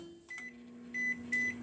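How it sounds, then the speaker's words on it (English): A microwave oven warms food with a steady low hum, broken by a few short electronic beeps near the end, heard alone without talk. "Listen to the microwave warm it up, Chris."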